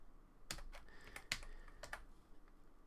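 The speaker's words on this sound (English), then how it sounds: "Stop typing in the wrong place, dummy." Someone types on a computer keyboard, a few sharp, close key clicks in quick uneven bursts at a quiet level, with soft room noise between strokes.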